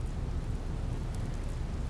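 Steady, dense rain hisses in the video game Digital Devil Saga. The wash is continuous and low-heavy, like a downpour with a distant rumble underneath, and no voices are heard.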